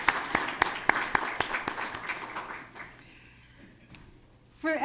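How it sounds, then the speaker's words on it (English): The audience at a Lakeside Girls Academy graduation ceremony claps in moderate, scattered applause. It thins out and fades, and a voice comes in near the end. "give yourself a round of applause."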